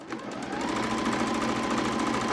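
A sewing machine runs steadily, stitching trouser pieces to a bib along a 1 cm seam, its fast mechanical whir continuous and close throughout with no talking.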